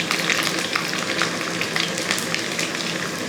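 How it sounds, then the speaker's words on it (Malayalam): Garlic sizzles steadily in hot oil in a pan for Kerala-style moru curry, a dense, even crackle that continues throughout with no voices. "ആ വെളുത്തുള്ളി നമുക്ക് ഇട്ട് കൊടുക്കുക. അതിന് ശേഷം ഒന്ന് ഇളക്കി."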